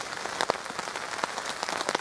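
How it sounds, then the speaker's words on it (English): Light rain patters on a camping tarp strung over a hammock in the woods, with a dense, steady hiss of fine drops and sharper individual taps landing irregularly and close by. "I love the sound of the old raindrops just hitting the tarp."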